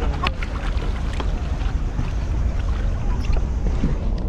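Paddles stroke the water as a boat is rowed along at El Nido, a steady splashing wash with wind buffeting close over it and no voices.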